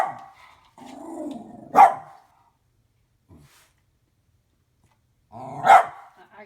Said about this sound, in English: it's another dog.